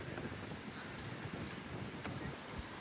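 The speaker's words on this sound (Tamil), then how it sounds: "காத்து பயங்கரமா அடிச்சிட்டு இருக்கு." Strong wind blows across an outdoor cricket ground during a tournament match in Karur, a faint, steady rushing buffet against the microphone with no voices.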